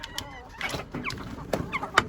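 Chickens and roosters cluck in a coop, including a porcelain rooster and a crested ispenç rooster. The calls are short, scattered and close, several overlapping over about two seconds, with no talk.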